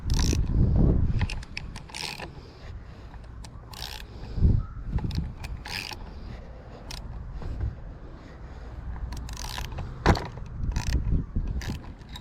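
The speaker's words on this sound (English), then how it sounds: "I just undone the nut on it, on the flywheel." A socket wrench ratchets the nut loose on a chainsaw flywheel in a repair workshop: scattered, sharp mechanical clicks and clunks come in irregular bursts, close and fairly quiet.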